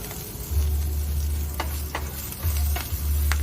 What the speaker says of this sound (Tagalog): Pag nagba-brown na siya, ilagay mo na ang liempo.